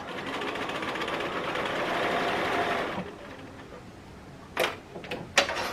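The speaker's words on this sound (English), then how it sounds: "I am going to sew right round this sleeve" A sewing machine stitches steadily around a bag sleeve for about three seconds, then stops, followed by a few faint clicks and handling knocks nearby.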